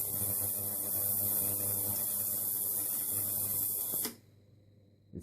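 A repaired ultrasonic cleaner runs with a loud, steady hiss and electrical hum for about four seconds, then cuts off abruptly into near silence.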